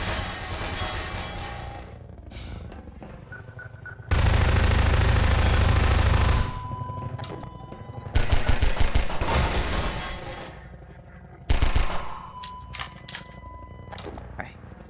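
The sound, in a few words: gunfire bursts from video game Half-Life 2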